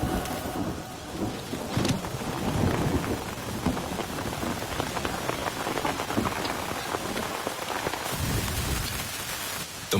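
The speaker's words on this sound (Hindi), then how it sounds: "यहाँ पर बारिश हो रही है" Steady heavy rain pours throughout, with rumbles of thunder rolling underneath; a dense, continuous downpour with no voices.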